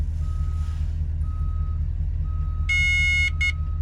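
Reversing-style alarm beeps from a sensor on a mobile library vehicle, a steady run of loud electronic tones over a constant idling engine rumble, with a brief pause before a final burst.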